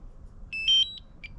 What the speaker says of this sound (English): Short press the remote controller power button, then hold it again it begins to beep and indicate its power on